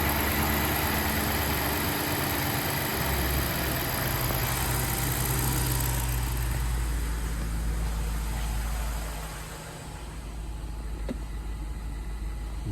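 A BMW 745i V8 idles steadily after a fuel pressure repair, a low continuous hum with a slightly rough start that settles and softens toward the end, heard alone without talk.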